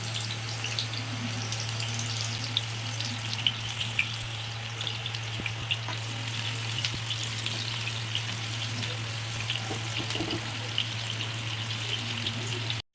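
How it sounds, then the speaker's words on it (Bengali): Onion frying in hot oil with cinnamon, cardamom and bay leaf for Bengali chira pulao, giving a steady close sizzle with crackling pops under a constant low hum. "এবার এর মধ্যে দারচিনি এলাচ আর তেজপাতা দিয়ে দিলাম এটা ভালো করে একটু ভেজে নিচ্ছি এর মধ্যে পেঁয়াজ দিয়ে দিলাম"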